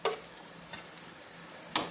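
Chicken pieces frying in hot oil give a soft steady sizzle, with a few sharper bursts as pieces are moved around.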